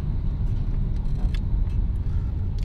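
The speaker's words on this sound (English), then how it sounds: "we're just rolling through London traffic" A steady engine and road rumble from a VW Golf Mk2 rolling through London traffic at night in a large cruise of Mk2s, continuous and close, with faint rattles on top.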